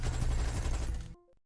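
Dense burst of gunfire in a war film battle scene, rapid overlapping shots roaring loud and close before cutting off abruptly into near silence with a few faint ticks.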